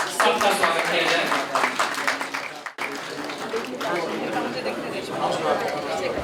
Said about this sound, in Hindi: तालियों के साथ सबका स्वागत किया जाए